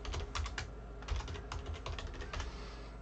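Steady typing on a computer keyboard, with close, crisp keystrokes in an uneven run and occasional heavier key presses, heard alone without talk.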